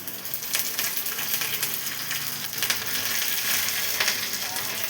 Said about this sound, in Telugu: ఎండుమిర్చి 4 వేగాలి. ఎండుమిర్చి, పచ్చిమిర్చి, ఎల్లిపాయలు 4,